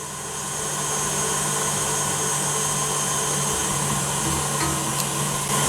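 A stand mixer runs steadily at high speed, whipping Italian meringue in a single continuous, loud whirring drone that ends with no pause and no voices.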